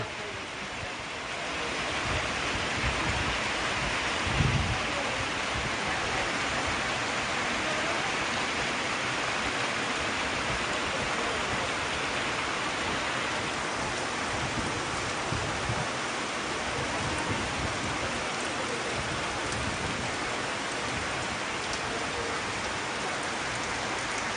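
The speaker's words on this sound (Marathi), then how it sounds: "बऱ्याच दिवसांनी पाऊस झाला" Steady, dense first monsoon rainfall in Konkan pouring down continuously, a constant loud hiss of rain on surfaces with no pauses.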